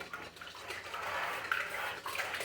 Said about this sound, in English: now we're going to scramble up our eggs. Get your whisk. Scramble.